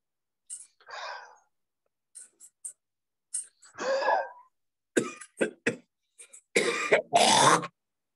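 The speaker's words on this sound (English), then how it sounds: "This coughing, something needs to come out." Several harsh coughs and throat clearings come in irregular bursts separated by quiet pauses during a lung-purification breathing exercise, ending in two longer, heavier coughing fits, nearby and moderately loud.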